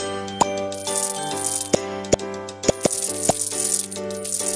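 Bath bubbles popping in the Power Girls Super City game: about eight short, sharp pops at irregular intervals, each a bright click over a soft tonal music bed.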